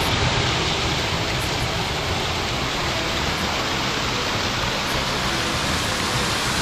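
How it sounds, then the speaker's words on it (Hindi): Waterfall in a Darjeeling rock garden, a steady, close, broadband rush of falling water that fills the whole stretch without a break. "तो सुपर वाइड एंगल में आप देख रहे हैं ये वाला झरना।"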